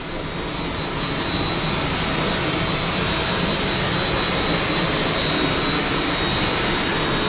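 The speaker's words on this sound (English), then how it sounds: "You hear the motor actually change." A water park pump motor changing speed gives a steady, loud mechanical drone with broadband noise and a faint high whine, holding constant throughout with no voices.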